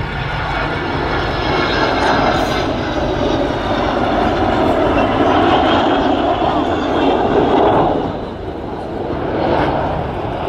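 An Avro Vulcan XH558 bomber flies past at an airshow at RAF Fairford, its jet engines giving a loud, broad roar that swells and shifts, with a brief dip in level near the end.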